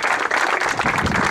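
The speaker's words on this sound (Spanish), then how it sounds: "Luciano Vallejos, el campeón con todos ustedes, fuerte el aplauso" Loud, close crowd applause greets a champion racing driver at a presentation dinner, a brief dense burst of many hands clapping without pause.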